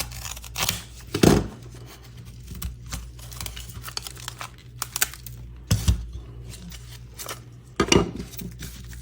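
Cutting tool snipping into a layered sample of polycarbonate sheets backed with aluminium, giving a few sharp crunching cuts at irregular intervals over a low steady hum, with small clicks and handling noises between them.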